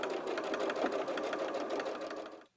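A sewing machine stitches the corners of a fabric box pouch, its needle hammering in a fast, steady rhythm close by, running continuously before stopping abruptly at the end.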